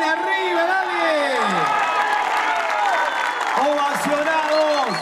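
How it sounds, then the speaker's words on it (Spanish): Applause, cheering and whoops from a crowd at a beer festival concert in San Javier, loud and continuous, with a sung or called voice riding over the clapping. "Y el aplauso viene arriba, dale."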